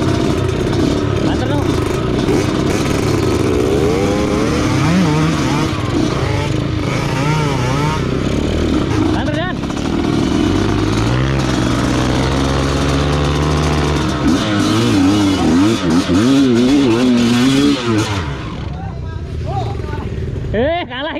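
A small mini trail 2WD 2x2 motorbike engine running close by, its buzzing drone rising and falling with revs and sputtering near the end, while people talk over it.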